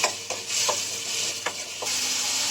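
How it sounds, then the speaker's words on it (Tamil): Tomatoes sauté in oil in a pan for tomato chutney, a close, continuous sizzle broken by a few sharp stirring scrapes of a spoon, with no voices. "நல்லா எண்ணெயிலே வதங்கட்டும்."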